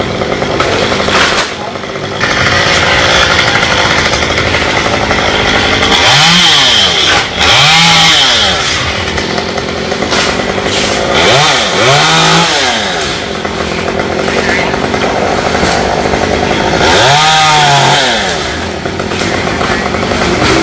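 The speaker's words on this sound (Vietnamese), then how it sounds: "Những phần nhánh bên trong thì sẽ cưa rớt xuống bên trong luôn cho khỏe." A chainsaw roars continuously up close, its engine pitch rising and falling several times as it bites into the branches of an Indian almond tree.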